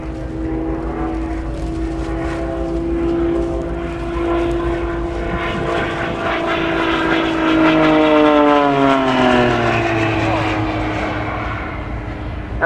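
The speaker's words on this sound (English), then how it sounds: "position his aircraft as he comes back towards us to finish off the solo flying" A Blades aerobatic display aircraft at the Farnborough airshow flies a solo pass, its propeller engine droning loudly and steadily, rising and then sliding down in pitch as it sweeps by, with a commentator's voice over it.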